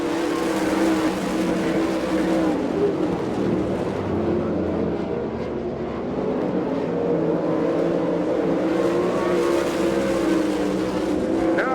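Sprint cars race around a dirt oval at Abbottstown, Pennsylvania, in an All Star Circuit of Champions event, a loud, dense roar of several engines rising and falling steadily across the whole stretch.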